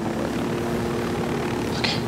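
A video-game helicopter in the Narco Road DLC makes a continuous rotor and engine drone, steady and fairly close, across the whole short moment without speech.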